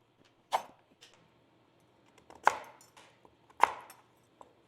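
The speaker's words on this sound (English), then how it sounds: "So I'm gonna cut mine into 2-inch pieces today." Knife chopping root vegetables into roughly 2-inch pieces for maple-glazed roasting, with three sharp, close cuts against a board plus a few lighter taps, spaced about a second apart in a quiet kitchen.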